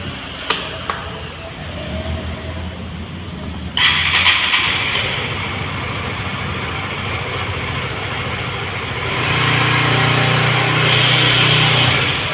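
A Honda Supra GTR 150 motorcycle engine is started and settles into a steady idle, with a sharp onset a few seconds in and the running sound swelling louder near the end.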